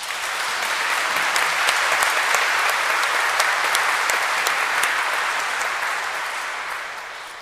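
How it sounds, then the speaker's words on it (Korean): An audience at a priest's fiftieth-anniversary jubilee celebration gives a big round of applause, a dense, even clapping roar that swells, holds steady and then tapers off near the end. "축하의 큰 박수를 보내주시기 바랍니다"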